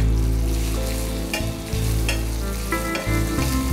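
Chopped onions fry and sizzle steadily in a pan on the stove, with scraping stirs breaking in every second or so, loud and close throughout with no voices.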